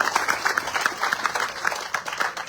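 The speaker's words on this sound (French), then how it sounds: "on applaudit bien fort sur le mesdames et messieurs" An audience at a presentation of election running mates applauds, a steady moderately loud patter of many hands with no break.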